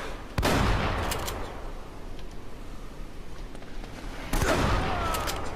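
Gunfire in the video game Uncharted: Drake's Fortune, two sharp loud bursts near the start and end with a quieter background of game noise between.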